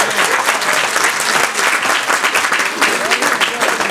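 Loud, close applause from an audience at a speech in Nigeria, continuous clapping across four seconds with some crowd voices mixed in.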